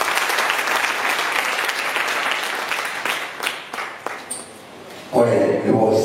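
An audience at a French festival event breaks into applause, a dense wash of clapping that thins out, pauses briefly, then resumes loudly at the end.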